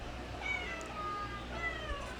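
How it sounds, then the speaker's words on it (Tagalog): A cat meows insistently for food, repeated drawn-out cries close by against a quiet background. "Ayan si Miming, miyaw ng miyaw, hingi ng pagkain"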